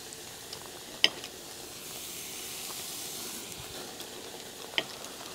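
A T-bone steak sizzling in a pan while basted with butter: a soft, steady hiss and sizzle throughout, with two sharp clicks of a utensil against the pan.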